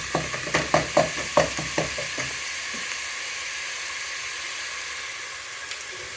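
Garlic sizzling in a frying pan for homemade pizza, opening with a series of sharp spatula or pan clicks over crackling, then settling into a soft, steady hiss of frying.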